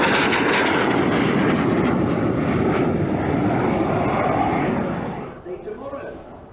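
A small aeroplane flies overhead at an air show at Kemble, its engine droning loudly and steadily, then fading away quickly near the end as it passes.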